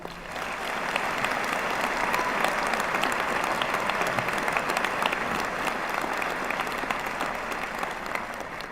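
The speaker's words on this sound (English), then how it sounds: "So please join me in a round of applause for all of our awardees tonight." A ceremony audience at a veterinary medicine hooding gives sustained, even applause for the awardees, a dense mass of clapping that carries on for several seconds.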